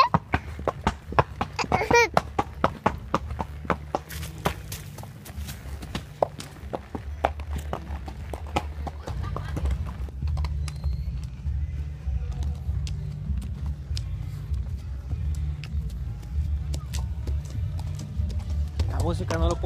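A dancing horse's hooves clop on hard ground in an uneven rhythm as people talk nearby on a farm, with a low musical hum underneath.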